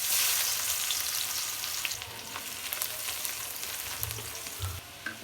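Onion frying in oil in a wok, a loud sizzle at first that settles into a softer steady crackle, with a few stirring knocks and no voices.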